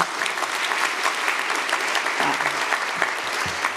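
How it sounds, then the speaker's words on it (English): A historic preservation conference audience applauds throughout, a thick, continuous burst of clapping with scattered voices and a whoop or two underneath. "Another round of applause for Cletus."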